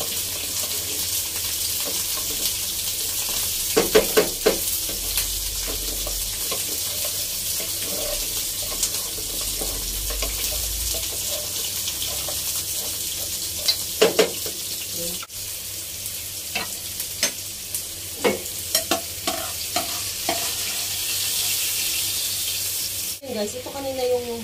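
Garlic, onion and tomato fry in a pan for Filipino beef mechado, a steady bright sizzle throughout with intermittent spoon-stirring scrapes and clinks close by.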